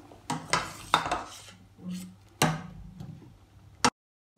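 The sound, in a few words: cooked potatoes being transferred into a bowl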